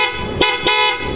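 PIAA horns fitted low on a Nissan Navara sound two loud, close, harmonically rich blasts, the second longer, over a steady background hum.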